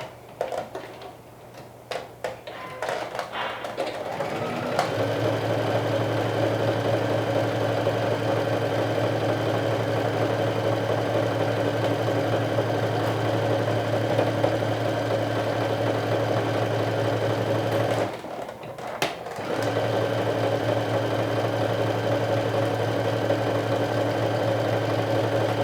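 Sewing machine running steady seams on a Tofino garment, a constant mechanical hum after a rustly start, briefly pausing near the end before resuming.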